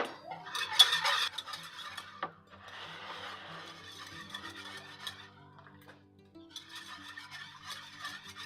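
A spoon stirs milk into egg yolks for banana pudding, giving close, soft scraping and clinking in bursts with pauses between them.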